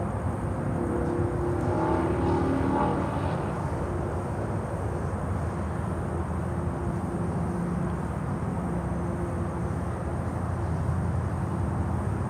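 A Lufthansa Boeing 747-8 at Miami airport makes a steady, broad roar as it taxis toward the runway, sustained and even, with no voices.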